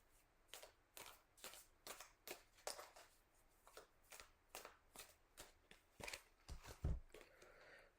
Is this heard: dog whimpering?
no